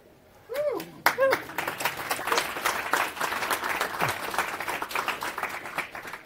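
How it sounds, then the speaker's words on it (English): Audience applause at a Rust programming conference talk, breaking out loud and dense after a brief spoken opening, with sharp individual claps and a voice briefly heard over it, sustained for several seconds. "The applause is absolutely not for me."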